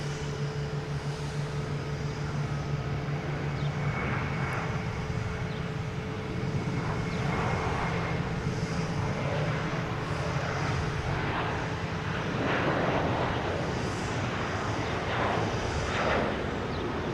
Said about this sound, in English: We got JetBlue and A321 heading to Las Vegas.